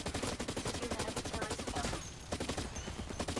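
A turret in the PS4 shooter Blacklight Retribution fires a rapid, loud, continuous burst of automatic gunfire, with a brief dip midway before the sustained rattling resumes. No one speaks.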